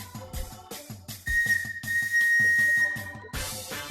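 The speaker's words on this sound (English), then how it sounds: "Bruno blew his air whistle and dumped out all of his air, indicating that there is an emergency" A train's air whistle blown as an emergency signal sounds one sustained shrill tone for about a second and a half, set against busy rhythmic music.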